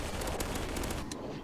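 A machine gun in Garry's Mod fires steadily for the whole stretch, a continuous rattle of rapid rounds with a few sharper cracks poking out, loud and close.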